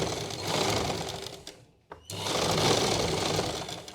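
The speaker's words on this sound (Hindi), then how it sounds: "मेरे हाथ इधर आ रहे हैं और ये सिलाई ऐसे जा रही है, इस तरह से जा रही है" A sewing machine stitching cloth runs in a fast, close, rattling burst, stops briefly, then starts again and keeps running steadily.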